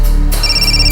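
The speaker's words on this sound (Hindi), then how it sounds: "फोन उठाओ" A phone rings loudly and close up, a sustained electronic ringtone with bright tonal bursts in a short, continuous stretch, with no talking over it.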